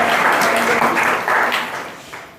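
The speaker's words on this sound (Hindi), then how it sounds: "बहुत बढ़िया, ताली बजाइए इनके लिए।" Audience clapping at a motivational talk, a steady wash of applause with a voice speaking over it.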